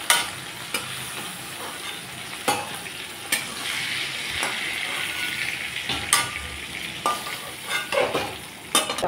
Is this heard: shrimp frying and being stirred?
yes